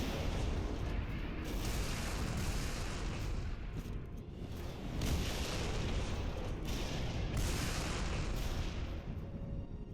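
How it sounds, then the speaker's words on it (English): Rocket launcher fire in the video game Halo Reach, loud dense booming blasts and explosive rumble filling the whole stretch with repeated bursts and no talk. "I never knew there was a rocket launcher up here. So I pick that bad boy up"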